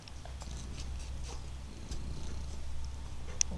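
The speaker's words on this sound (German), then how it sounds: "Der schnurrt jetzt laut." A cat on valerian purrs loudly and close, a low, steady rumbling drone that continues unbroken, with faint small rustles over it and no talk.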